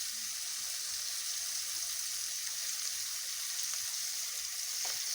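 Onion sizzling in hot oil for a fish curry, a continuous hissing fry that stays steady and fairly close, with faint kitchen clatter near the end.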